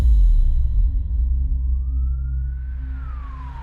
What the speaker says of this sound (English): Seconds later, the ambulance finally arrived and Kay was rushed to the hospital.